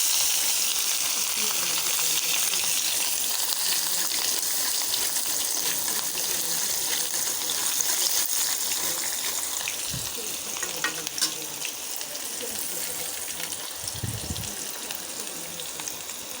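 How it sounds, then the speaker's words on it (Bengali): Green chillies and chopped onion frying in a pan, a loud continuous sizzle with occasional stirring scrapes, steady throughout with no talking. "এই তো একেবারে কাঁচামরিচ আর পেঁয়াজটা আমি এরকম করে ফ্রাই করে নিয়ে নিয়েছি"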